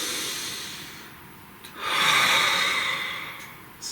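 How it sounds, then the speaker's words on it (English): A single slow, deep breath taken close to the mic, a long airy inhale followed by a softer exhale against quiet room hiss. No talking. "Please take a nice deep breath."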